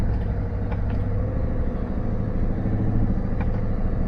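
A Scania V8 truck engine under light, feathered throttle while climbing a hill, heard as a steady loud low rumble with a continuous drone throughout and no voices.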